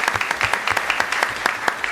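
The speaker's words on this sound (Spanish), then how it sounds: "nos acompaña con un muy fuerte aplauso" Lively studio audience applause greeting a guest on an interview show, brisk and fairly loud individual claps clearly audible across the short stretch.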